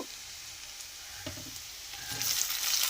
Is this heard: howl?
no